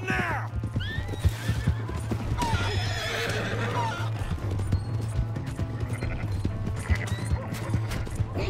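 A horse neighs loudly several times over rhythmic hoofbeats at a gallop, with clattering and effects around it, in the video game Red Dead Redemption 2.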